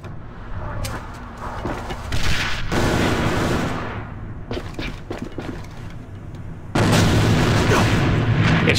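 Loud, sustained gunfire in the competitive shooter AVA during a tournament match, with sharp bursts and heavy booming volleys packed close together, a short gap, then another dense barrage at the end.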